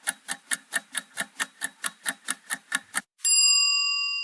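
A quiz-video sound effect: about thirteen crisp, evenly spaced ticks in a quick steady rhythm, then a single bright bell ding that rings out and slowly fades, clean and close with no talk.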